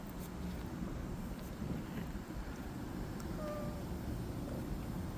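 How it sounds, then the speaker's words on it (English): Outdoor wind blowing steadily, a low constant rumble and buffeting against the microphone, faint throughout with no talk. "I'll be right back when the wind settles."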